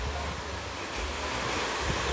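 Jaein Falls in Yeoncheon, South Korea, roars steadily below a swaying suspension bridge, a dense continuous wash of falling water mixed with wind buffeting the microphone, loud and unbroken.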